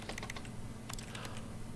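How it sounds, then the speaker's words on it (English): Quick keyboard typing from a notepad in The Stanley Parable video game, a soft flurry of clicky keystrokes in short bursts, fairly quiet with no voices. "does the notepad make a keyboard sound?"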